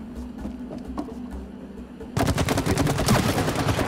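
Sticky honey-like goo fired from a weapon in the It Takes Two video game, a quiet ambient bed giving way halfway through to a loud, dense burst of rapid, repeated splattering shots that continues to the end.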